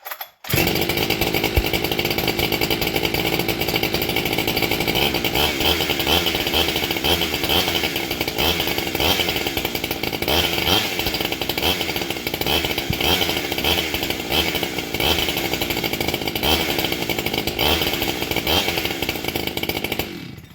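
A two-stroke dirt bike engine, a Suzuki SX82, revs hard and steadily on a cold start, a loud, raspy buzz that holds at high pitch for the whole stretch.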